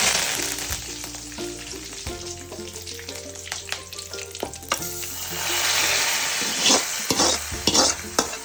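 Mustard seeds and curry leaves sizzle and crackle in hot coconut oil as a tempering for a mango and lentil curry, with close, bright frying hiss and a few louder pops and stirring scrapes.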